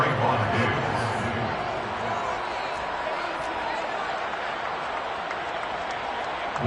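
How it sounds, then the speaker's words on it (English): A broad wash of crowd applause and cheering in the football video game Madden 23 fills the whole stretch, steady and moderately loud, with a commentator's voice talking over it. "How about some applause for the defense there?"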